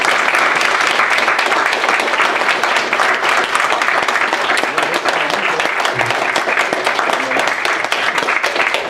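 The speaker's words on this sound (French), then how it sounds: "On peut applaudir notre Jacqueline pour tout ce qu'elle a fait." Applause at a church funeral for a woman named Jacqueline, with a congregation clapping steadily and fairly loudly for several seconds, no pauses and no voices above it.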